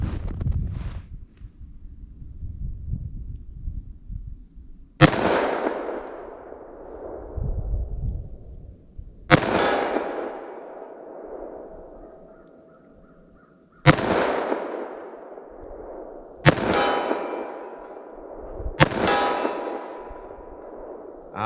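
Five .357 Magnum revolver shots fire from a short barrel at a target 40 yards away. Each is a sharp, loud crack with a ringing tail, spaced several seconds apart, with crows cawing in the background between shots.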